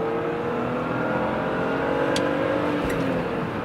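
A BMW E46 drives and accelerates with a steady, close engine drone and road noise throughout, with a couple of brief higher-pitched squeaks or ticks partway through.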